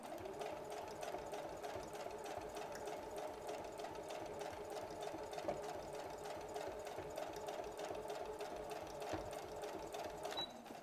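A sewing machine stitches a belt bag (fanny pack) made from recycled fabric, running a close, steady mechanical whir through the whole stretch with no pauses and no talking.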